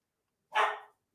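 One short, sharp bark from a female pet dog sounds indoors, a single clear burst fading quickly into silence, with a faint sound starting at the very end.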